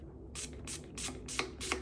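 Spray bottle of hair product for a slick bun on natural hair, giving several short hissing spritzes in an even rhythm, close and fairly soft.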